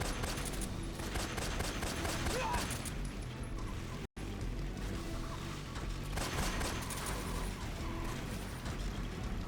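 Rapid gunfire crackles during a motorbike chase in Metal Gear Solid 3: Snake Eater, with dense, repeated bursts of shots and engine noise filling the scene apart from a brief dropout.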